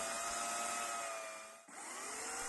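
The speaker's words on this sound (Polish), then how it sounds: "Ja moją piłą elektryczną wyciąłem już kilkanaście drzew, dlatego ten łańcuch wymaga ostrzenia, ale jeszcze na to drzewo jakoś daje radę" An electric chainsaw with a dull chain cuts into a tree. Its motor gives a steady, loud, high whine that dips briefly as the chain bites into the wood, then picks up again.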